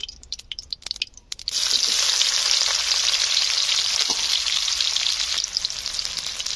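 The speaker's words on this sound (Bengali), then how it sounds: "কড়া গরম হয়ে গিয়েছে, আমি তেল দিয়ে দেবো। পেঁয়াজ দিয়ে দেবো" Onion hitting hot oil in a heated pan for a kachu shak dish: after a second of scattered crackles, a loud, steady sizzle bursts in and holds close and continuous to the end, with no talk.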